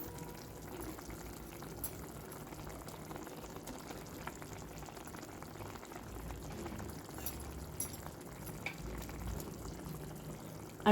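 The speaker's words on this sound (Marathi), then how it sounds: "तर आता याला उकळा आला आणि आता मी याच्यात टाकते कोफ्ते." A pot of cabbage kofta curry at a steady boil, its continuous soft bubbling and simmering carrying on evenly throughout, close by with no voices.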